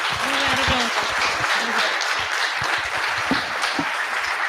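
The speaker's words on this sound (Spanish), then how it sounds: "Un aplauso para Rudy." Audience applause at the end of a talk, continuous clapping with a few voices and cheers mixed in, fairly loud and close throughout.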